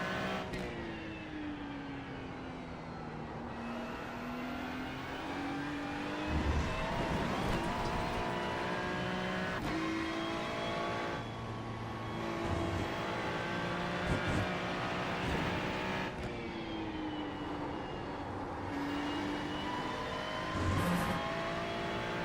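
GT3 race car engine in a racing video game, a loud continuous high-revving whine that climbs through the gears with repeated drops at each shift, steady throughout.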